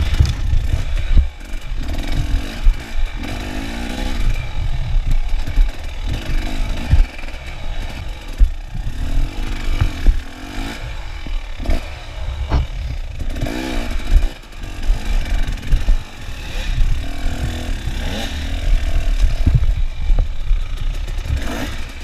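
A trials motorcycle picks its way through a boulder section, its engine revving in sharp bursts and dropping back between throttle blips, loud and close throughout with no talking.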